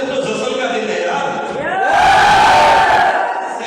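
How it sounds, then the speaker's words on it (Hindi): Crowd at a victory celebration, people dancing and clapping, a dense wash of cheering and shouting voices that swells louder midway and stays full to the end. "कोई जो आगे आ रहा है डांस कर रहा है, ताली बजा रहा है।"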